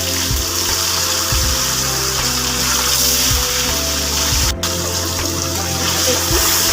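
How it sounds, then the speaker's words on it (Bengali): Paneer cubes frying in hot oil in a pan over a lowered gas flame: a loud, dense, continuous sizzle with a faint steady hum and soft low thumps underneath, heard up close. "দেখুন, পনির কিন্তু খুব বেশি ভাজবো না, হালকা করে ভাজবো।"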